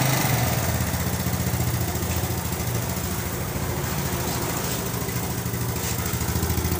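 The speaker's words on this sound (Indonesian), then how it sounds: "Ini motor sudah hidup ya." A motorcycle engine idles steadily just after being started, a continuous close, even rumble with a faint regular pulse and no talking over it.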